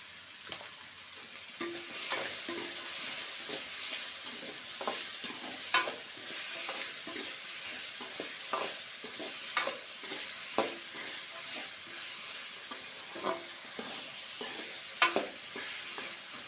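Salted vegetables stir-fry in a pan for fried rice, a steady close sizzle broken by repeated scrapes and knocks of a spatula, with no talking.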